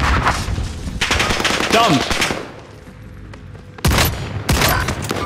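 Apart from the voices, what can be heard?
gunfire in a video game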